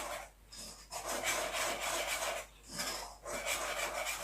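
Thick muffin batter with chocolate chips and sifted baking powder is stirred in a bowl, giving rhythmic scraping, rasping strokes in bursts with short pauses between, close and fairly quiet.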